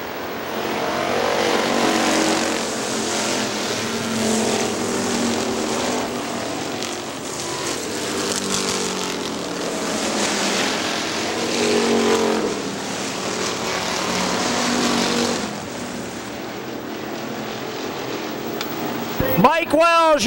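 Factory stock race cars roar around Hartford Speedway Park in a continuous, loud engine drone that swells and fades as they pass, with an announcer calling the race over it.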